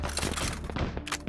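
Suppressive gunfire in a shooter video game, a dense, rapid burst of automatic shots with thumping impacts, loud and continuous for about a second.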